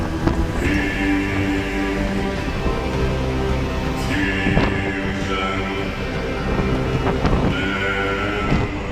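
Strong storm wind of up to 130 km/h on the British coast, a loud continuous roar buffeting the microphone with gusty surges and a sharper whistling band coming and going, no talk.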